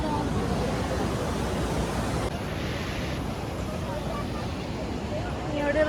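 Sea waves at Ganpatipule beach beside the temple, a continuous broad surf roar with wind buffeting the microphone, loud and steady throughout.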